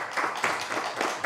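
Brief burst of audience applause at a forum, a quick patter of hand claps lasting only a moment.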